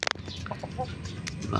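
Kabir breed broodcock chickens at a backyard farm give a few short clucks and squawks, with a sharp burst at the start followed by softer intermittent calls over steady background noise.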